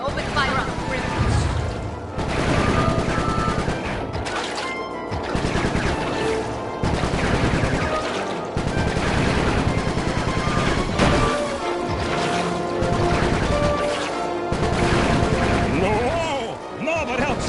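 Aircraft gunfire in Sly 3 rattles in repeated bursts broken by short pauses, loud and dense, layered over game music and effects with voices talking throughout.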